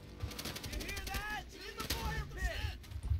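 Mortar explosions and gunfire in the video game Call of Duty: World at War, with heavy booms and rattling shots in quick succession, dense and loud battle noise throughout.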